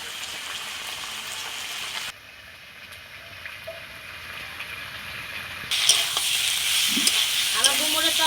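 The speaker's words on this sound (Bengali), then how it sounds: "এই আলু আর ডুমুর আবারও একটু খুব সুন্দর করে কষিয়ে নেব।" Potatoes and figs stir-fried in a pan hiss and sizzle steadily, dropping to a softer simmer for a few seconds before a loud sizzle returns. A short voice is heard near the end.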